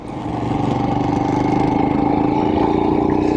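A Royal Enfield Himalayan motorcycle idles on a January day in Iowa, its single-cylinder engine thumping in a steady, even rhythm at close range with no speech over it.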